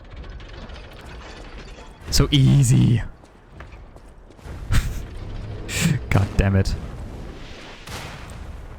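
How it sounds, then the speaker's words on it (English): Cannon fire in the video game Lies of P, two loud booming blasts a few seconds apart with mechanical clanks, a voice speaking between them. "And a cannon is shooting me."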